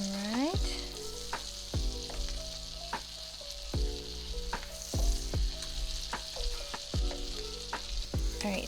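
Garlic sizzling in butter in a pan for garlic butter pasta: a steady, loud frying hiss with repeated clinks and scrapes of a utensil stirring at a regular rhythm, no talking.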